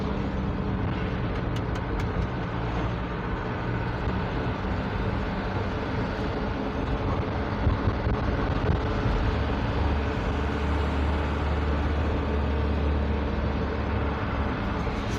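Loaded Mitsubishi Canter Super truck engine heard from inside, a steady low droning rumble throughout with slight swells in revs, no talk over it.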